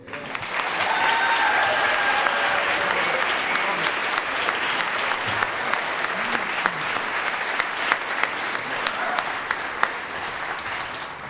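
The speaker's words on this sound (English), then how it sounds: "Y'all make some more noise for Mohammed." Sustained loud applause from a large audience, steady clapping with scattered cheers throughout.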